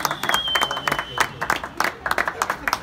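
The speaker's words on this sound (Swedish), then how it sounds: "Så jag ber de andra ge er en stor applåd." Scattered applause for medal-winning players after a match, with uneven bursts of clapping from a small group mixed with talk and a murmur.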